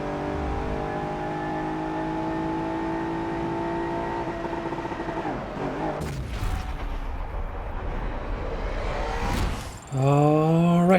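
A big off-road truck's engine revs in the racing game Forza Motorsport 7, with a steady droning roar, a brief surge near the middle and a sharp rising rev near the end, with no talk.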